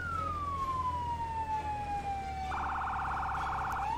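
An emergency vehicle siren in the Firefighting Simulator - The Squad video game gives a long falling wail, then switches to a fast pulsing yelp, heard at moderate volume over a low engine-like rumble.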